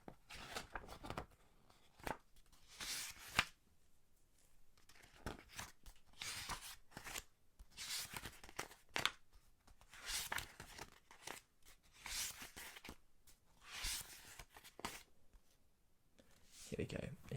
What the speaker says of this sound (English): Enjoy the page turning while I try and find it.